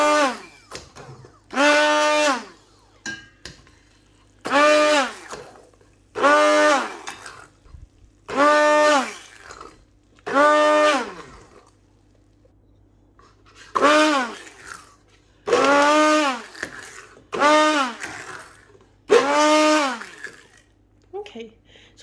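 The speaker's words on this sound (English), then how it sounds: "I've just got a hand blender and I've just pushed all the masala to one side, and what we're going to do, we're just going to gently blend this" A hand blender pulsing through a tomato and pepper masala for a spinach curry: about nine loud, separate whirring bursts, each rising and falling in pitch, with short quiet pauses between them.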